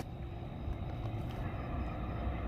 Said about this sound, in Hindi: गाड़ियों की आवाज़ें वगैरह, हॉर्न वगैरह की आवाज़ें आएगी